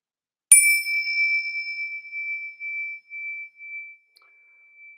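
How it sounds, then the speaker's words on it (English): A single bright bell strike rings out clearly, its pure tone sustaining and slowly fading over several seconds in otherwise quiet surroundings. "you'll hear the sound of this meditation bell again"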